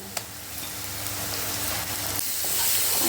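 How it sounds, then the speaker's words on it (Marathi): Ground masala paste with coriander powder and red chili powder fries in oil in a pan for a Maharashtrian liver dish, with a dense, close, continuous sizzle that swells gently and is broken by a few sharp pops, with no talking. "मस्त परतून घेऊ वाटणाला तेल सुटलेलं आहे"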